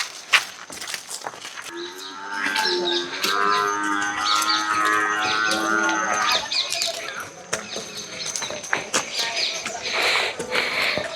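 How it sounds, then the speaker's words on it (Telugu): A pregnant Jaffarabadi buffalo at a sale in Hyderabad lets out a series of long, close moos, with birds chirping, scattered clicks and knocks, and a faint voice at times. "ఇది జాఫరాబాద్ గేదె"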